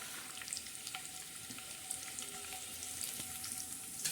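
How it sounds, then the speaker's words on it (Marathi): Garlic and cumin tempering sizzles in hot oil for a lemon and green chili pickle, a faint continuous crackling hiss with a few small pops and light stirring sounds. "आता छानसा असा मस्त तडका बसत आहे याला"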